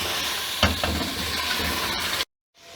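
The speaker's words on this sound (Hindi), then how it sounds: "लेकिन जी अच्छी तरह बुनाई शुरू हो गई है और ये देखें घी छोड़ना शुरू कर दिया" Beef stew with yogurt fries in ghee in a pot, sizzling steadily with a couple of stirring scrapes, then cutting off abruptly near the end.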